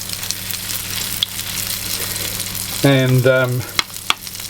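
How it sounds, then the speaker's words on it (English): Zucchini fritters frying in hot cooking oil, three at a time, give a steady close sizzle that runs throughout, with a brief voice and a few sharp kitchen clinks breaking in near the end. "I'm going to be doing 3 at a time, because with each one you lower the temperature of your cooking oil"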